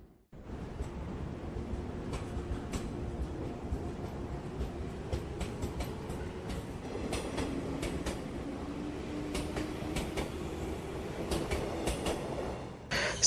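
Train running at a station in an animated film, a steady dense rumble of wheels and carriage noise throughout, with brighter clanks and clatter scattered across, loud and close with no voices.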